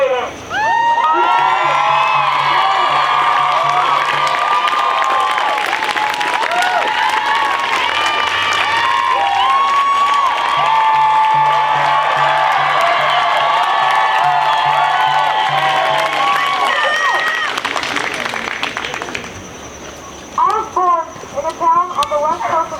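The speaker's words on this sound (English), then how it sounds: "I would like to let everyone give a round of applause to this brave 8th grader." Loud crowd cheering, whooping and applause fill a climate strike rally in Blacksburg, Virginia, sustained for about twenty seconds with shouting children, then dropping off abruptly near the end.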